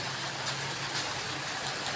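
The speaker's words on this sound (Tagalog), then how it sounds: "Sobrang ulan, guys." Heavy rain pours in a steady, dense hiss that fills the whole stretch evenly, with no voices.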